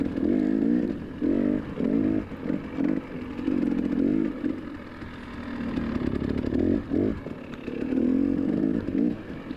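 Motorcycle engines rev and bog on a slick, muddy racetrack, loud close engine roars rising and falling in repeated bursts as the throttle opens and closes.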